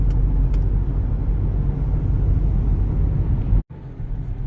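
A car drives along a road with a steady, loud rumble of engine and tyres heard from inside, cut by one brief dropout near the end.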